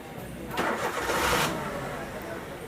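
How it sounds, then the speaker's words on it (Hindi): A Maruti Suzuki WagonR CNG car, running with a faulty CNG injector and cylinder misfire, cranks and starts with a broad burst of engine noise that rises then settles into a steady idle, with faint speech nearby. "तो गाड़ी को करता हूँ स्टार्ट।"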